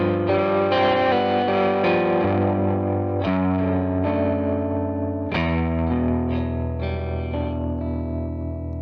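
A Hammett Guitar Co. H780 'Black Pearl' 2021 electric guitar with humbucker pickups strums a series of distorted full chords with a chorus-like shimmer, loud and sustained, each chord ringing into the next.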